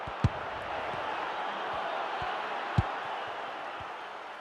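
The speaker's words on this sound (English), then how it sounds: "The crowd certainly think so. Just listen to that noise." Steady roar of a stadium crowd in the FC Mobile football game, a broad continuous wash of noise with a couple of sharp thuds standing out.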